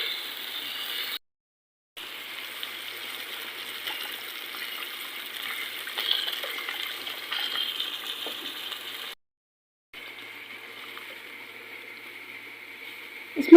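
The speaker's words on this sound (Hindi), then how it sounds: "इसमें हमने पानी शामिल कर लिया।" Water is poured into a pot of vegetable rice as a steady, even rushing stream, broken by two short silent gaps.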